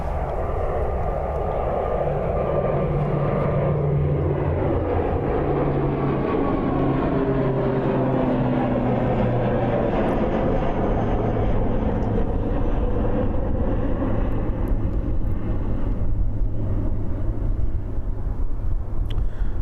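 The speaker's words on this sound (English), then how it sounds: "we've got a little ATR creeping up on us." An ATR turboprop airliner taxis at Christchurch airport, its propeller drone loud and continuous, with the pitch slowly rising and falling as it moves nearby for about twenty seconds.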